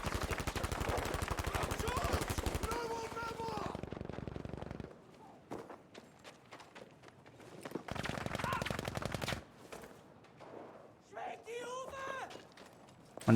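Sniper rifle and pistol fire in a Battlefield V match: long stretches of rapid, evenly spaced shots alternate with brief single cracks and quieter gaps, while a commentator talks over the action.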